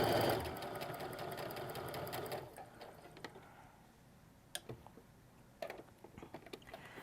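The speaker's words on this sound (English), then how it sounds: "I put my finger on top of them, and I just sew until I reach the top." A sewing machine chain-piecing fat quarter strips for a quilt runs in a steady, fast mechanical whir for about two seconds. It stops, and a few soft clicks and handling knocks follow at close range.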